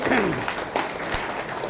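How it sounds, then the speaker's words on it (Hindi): A seminar audience claps together in a short burst of applause, dense and fairly loud, with a voice talking over it. "एक बार ताली बजा लो"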